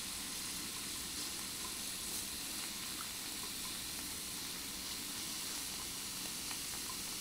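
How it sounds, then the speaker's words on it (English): Dried shiitake mushrooms stir-fry in a pan for japchae, giving a steady, soft, hissing sizzle that holds evenly for about seven seconds with no one talking. "And I just stir fry it."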